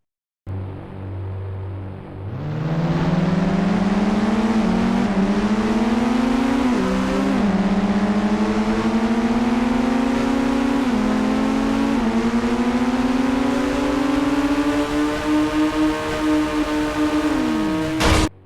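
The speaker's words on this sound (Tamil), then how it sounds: "ஸோ ஃபெராரி அண்ட் போர்ச்சுக்கு வச்ச ரேஸில் பார்த்தீங்கன்னா வந்து போர்ச் கார் ஜெயிச்சிச்சு." Two cars, a Ferrari and a Porsche, race in the Indian Bikes Driving 3D mobile game, with loud sustained engine roar rising in pitch through repeated gear shifts and one final drop as the race ends, no talk.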